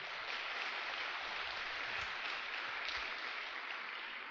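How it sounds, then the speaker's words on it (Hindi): Faint, steady applause from an audience at a CGIPL insurance advisors' event in 2022, a continuous even wash of clapping with no voices on top. "दोस्तों, ताली जोर से बजाना चाहिए।"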